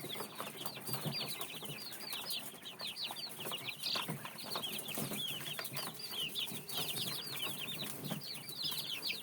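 A dense, constant chorus of high, thin chick peeps, many overlapping chirps throughout, with faint rustling underneath.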